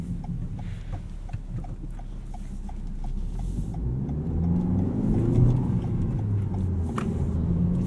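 A 2019 Toyota Corolla XSE hatchback with a six-speed manual revs at high RPM, its steady engine drone swelling in pitch and loudness, heard from inside the cabin.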